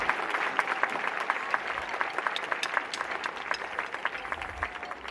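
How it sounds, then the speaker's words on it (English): Welcome applause for dignitaries on a stage at a school event in Pune, a steady patter of many hands clapping at moderate distance, sustained evenly for several seconds. "Please give a big round of welcome applause for all the dignitaries on the stage."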